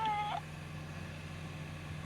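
A spirit kitty ghost-hunting device lets out a single short electronic meow near the start, then a low steady hum remains in a quiet room.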